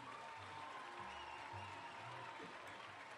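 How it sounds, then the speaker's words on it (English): Crowd applause for a 2017 homecoming court at an outdoor football field, a steady, distant wash of clapping that stays even throughout, with a low hum and faint voices beneath. "please join me in a round of applause for our 2017 Homecoming Court"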